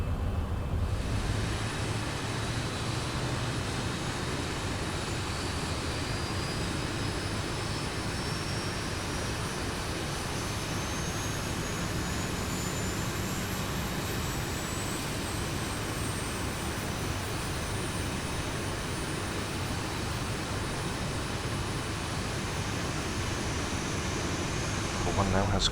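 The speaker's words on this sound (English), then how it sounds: "so we go for engine number 1. So start valve is open." Boeing 737-800 jet engine spooling up during start in the X-Plane 11 flight simulator, a steady loud roar with a rising whine climbing in pitch throughout, alone without talk.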